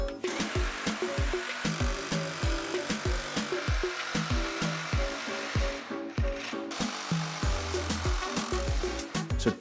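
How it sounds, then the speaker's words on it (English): A cordless jigsaw saws through flooring boards in a basement renovation, its rapid repeated strokes close and loud, with a short pause before cutting resumes. "Cordless jigsaw. This is the bee's knees for doing flooring."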